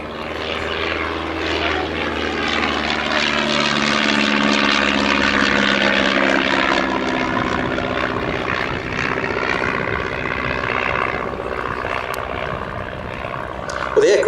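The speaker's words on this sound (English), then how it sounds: "that is this beautiful mauve version of the Tiger Moth" A de Havilland DH.82A Tiger Moth biplane flying at the Sywell Airshow 2024, its propeller engine droning steadily and fairly close for the whole stretch, with a commentator talking over it.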